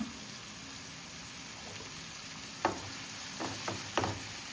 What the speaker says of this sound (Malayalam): നമുക്ക് വഴറ്റി കൊടുക്കാം.